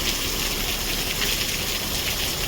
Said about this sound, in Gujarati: વરસાદ શરૂ થઈ ગયો અમારા ઘરે.